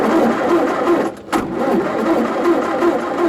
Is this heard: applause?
no